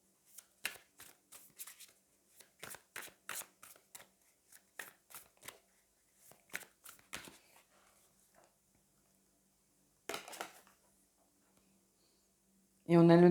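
Tarot cards being shuffled and drawn, a series of soft, close riffling and slapping bursts spread irregularly through a quiet room, ending with a brief louder tonal sound.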